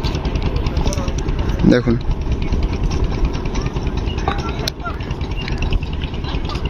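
A fishing boat's engine chugs steadily nearby while hauling a net in the Sundarbans, a low throbbing idle running throughout under someone talking.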